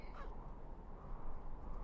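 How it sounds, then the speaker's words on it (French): A snowy owl calls in the video game Syberia II, giving a single brief, faint hoarse cry near the start over a steady low background rumble. "C'est une harfang."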